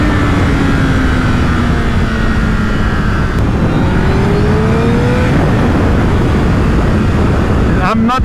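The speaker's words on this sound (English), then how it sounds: "Way too fast, this motorcycle, for public roads." Honda CBR1000RR Fireblade SC59 superbike accelerating hard on a public road, a loud close engine howl climbing in pitch with a gear change midway, under heavy wind roar and some talk.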